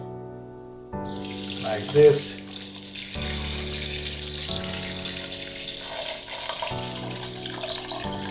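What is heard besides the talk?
water pouring into a pot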